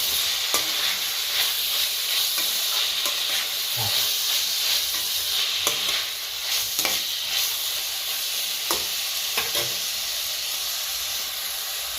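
Tomatoes fry on low heat in a pan for crab gravy, giving a continuous close hiss and sizzle. Repeated sharp scrapes and clicks of stirring come through at an uneven pace.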